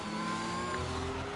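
A racing car in a sim racing qualifying session at the Austria circuit spins out into turn 3, its mid-pitched engine droning steadily with a faint hint of tire scrub throughout a short burst.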